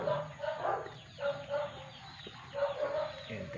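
Chickens cluck repeatedly nearby in uneven bursts, with soft farmyard background noise throughout.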